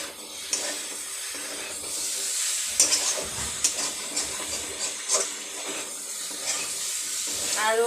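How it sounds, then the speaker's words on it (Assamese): Pounded cloves and cardamom fry in a pan, giving a close, continuous sizzle with hissing, scattered crackles and occasional stirring scrapes, with no voices. "আৰু 2 মিনিটমান এনেদৰে ভাজি ল'ম।"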